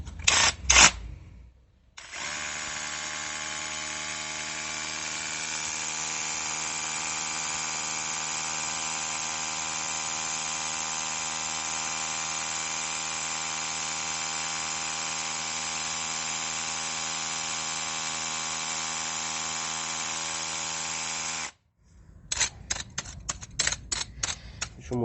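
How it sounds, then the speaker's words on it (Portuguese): The hammer drill head of a 5-in-1 cordless drill bores into a solid concrete block at full speed, a loud steady whining buzz held for about twenty seconds, framed by brief bursts of starting and stopping. "Teste desse cabeçote martelete perfurador. Vou fazer nesse bloco de concreto, pra gente ver como que ele vai sair."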